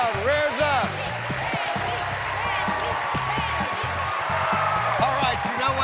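A studio audience on the game show Are You Smarter Than A 5th Grader? applauds and cheers steadily, with a person talking over the clapping throughout.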